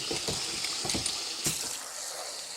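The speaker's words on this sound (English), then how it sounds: "Fill the peppers up with water" Water pours into a cooking pot holding jalapeno peppers, onion and garlic, a steady close splashing hiss with a few brief sloshing bursts lasting about two and a half seconds.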